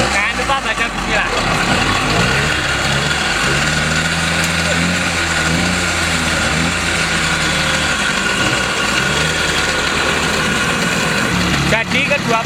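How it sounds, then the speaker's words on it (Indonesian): An old DKW Hummel two-stroke motorcycle engine idles steadily, a loud, buzzing putter that holds a constant rhythm throughout. "sebelumnya kita akan nyoba ngidupin kedua motor ini, antara DKW Hummel Super sama DKW Hummel TS"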